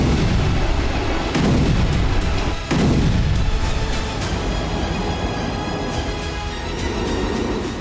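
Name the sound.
explosions from drone strikes on Russian energy sites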